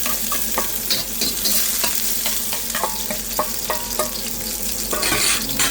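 Onion and ginger frying in avocado oil in a pan, a constant close sizzle broken by repeated clicks and scrapes of stirring, with no voices.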